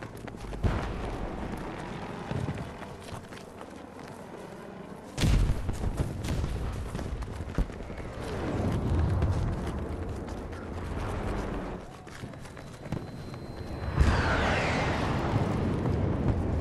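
Explosions and gunfire in the video game Battlefield 2042, heard as sharp, loud bangs and crashing bursts over a busy battlefield din, with heavy hits near the five- and fourteen-second marks.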